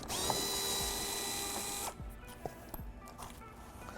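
A 7mm screw being backed out of a Corvette C8 composite rock guard with a power driver, a steady high whine for about two seconds, then quiet clicks and light handling taps.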